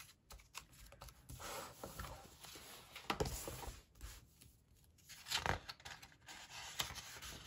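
Scissors snip through planner paper in short, irregular cuts, quiet and close, with small rustles of the paper between snips.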